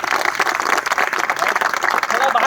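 An indoor crowd at a motivational talk on financial freedom breaks into brisk, dense clapping that stays close and loud throughout, with some voices mixed in.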